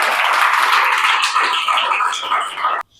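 An audience at an Indian maths teacher's class-result event claps in a dense burst of applause for about three seconds, steady and fairly loud, before it cuts off abruptly.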